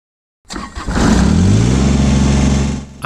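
A tractor engine starts up and settles into a loud, steady rumbling idle, close by, with no talking.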